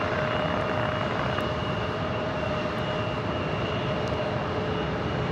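An Alaska Airlines Boeing 737-900ER arrives at LAX with a steady, unbroken jet roar and a faint high whine running through it. The sound stays at a constant level throughout, with no voices.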